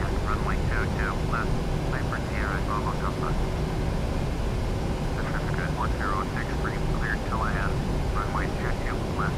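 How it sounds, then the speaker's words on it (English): A PMDG 737-800 jet in the Prepar3D flight simulator rolling into takeoff, a loud continuous engine roar with a low rumble held throughout, while chirpy warbling tones come and go over it. "we're just going to go for rolling takeoff"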